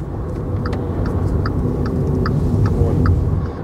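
A Volkswagen e-Up electric city car drives on the road, a steady low tire and road rumble with faint whine, and a run of soft high clicks or ticks recurring through the cabin.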